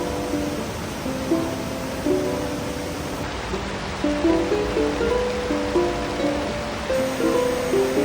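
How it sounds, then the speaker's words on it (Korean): Clear stream water flowing over broad rocks in a hidden valley along Hongjecheon in Seoul, a steady close rushing wash with faint birdsong above it and no talking. "너른 바위에 앉아서 시원한 물줄기를 구경했습니다"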